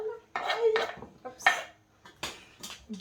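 Metal pots and utensils clatter in a few sharp bursts while making bricks pastries in a kitchen, with brief gaps between the clanks, close by.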